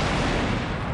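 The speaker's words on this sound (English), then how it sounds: "The resulting sonic boom can be heard and felt for miles around." A loud, continuous broadband boom roars out as compressed air bursts from a railway tunnel exit ahead of a high-speed train, filling the whole second without a break.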